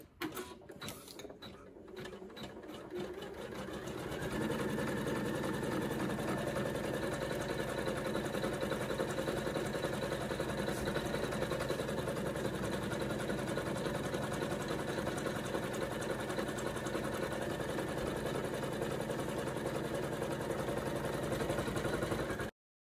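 An embroidery machine stitching an in-the-hoop felt vaccination card holder, starting with a few stuttering stitches, then settling into a steady, fast, mechanical chatter that runs loud and close until it stops abruptly.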